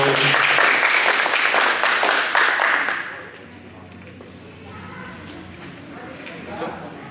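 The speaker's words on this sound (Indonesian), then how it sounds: "Tepuk tangan." A room full of students claps at a school student council candidate debate. The applause is dense for about three seconds, then fades into quiet room noise with faint movement.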